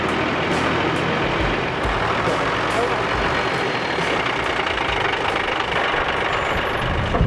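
A camper van truck's running engine with a tight, grinding mechanical noise coming from the axle, a steady dense rumble that continues throughout. Speech is mixed in underneath.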